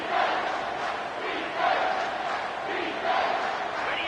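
A large football stadium crowd at the Rose Bowl, with the Dawgs playing the Terps, roars in a dense, sustained wash of cheering that swells and surges in waves. No distinct voices stand out.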